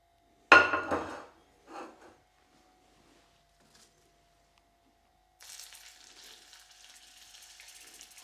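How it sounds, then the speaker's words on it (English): Fresh Austrian Bauernbratwurst sausages go into a frying pan: a few close clattering knocks, a quiet pause, then a soft, steady sizzle that runs to the end. "Let's sizzle up some sausages."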